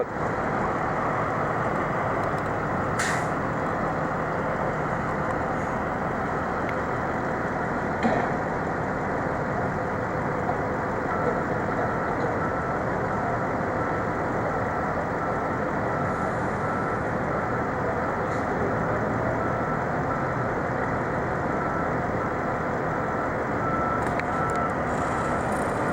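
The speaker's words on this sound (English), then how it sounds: "they will probably back that trailer right back up there beside the other one" A truck and its trailer are backed into place among pusher-puller trucks, with steady engine rumble and road noise throughout and a few faint intermittent reversing beeps over the continuous drone.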